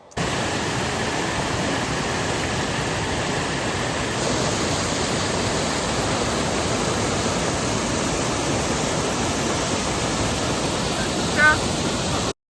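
Water flowing steadily beside the roadside at Endeavour Falls, a continuous broadband rush that stays close and even throughout, with a brief faint sound near the end.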